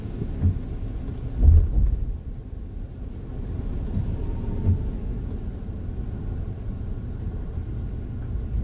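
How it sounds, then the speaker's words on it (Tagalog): Rain drums on a car driving over the Estrella Pantaleon Bridge in Manila, a steady low rumble of downpour and road noise with a heavier thud early on. "Oh, yun, umuulan."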